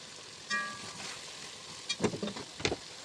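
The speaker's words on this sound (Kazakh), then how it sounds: "Міндетті түрде қатты қызарып қуыру емес, әйтеуір қуырып алатын боламыз 2-3 қайтара." Chicken pilaf ingredients fry and get stirred in a pan, with a quiet steady sizzle broken by a few scraping stir strokes and clinks of a utensil.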